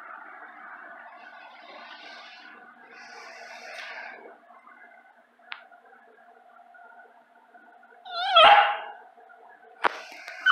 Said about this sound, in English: Heck, little dog. You're loud as very loud, little boy.